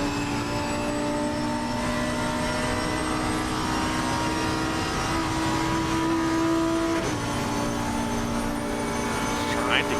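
A Lamborghini race car follows a Mercedes in its slipstream at the Nordschleife, its engine a steady, loud drone that briefly dips midway as the driver lifts off the throttle. A voice commentates underneath.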